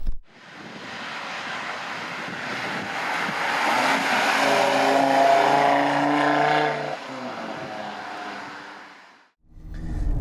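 An Audi RS3 Saloon drives along Suffolk country roads, its engine note swelling to a loud, steady drone and then settling back, with road and wind noise around it and a brief cut near the end.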